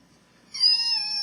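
A battery-powered toy cat gives a single clear, close electronic meow with a steady tonal tail, heard alone in a quiet room.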